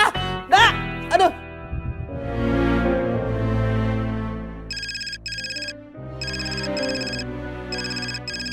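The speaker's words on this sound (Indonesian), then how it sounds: "Sampai telepon aja nggak diangkat sama dia." A mobile phone ringtone plays in repeated short electronic bursts and goes unanswered, following a couple of sharp vocal sounds and a swelling background tone.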